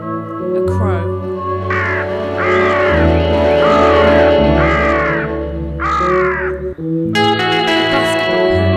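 A crow caws about five times in a slow, regular series, clear and prominent over a droning, echo-laden musical background.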